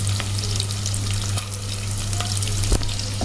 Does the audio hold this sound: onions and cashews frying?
yes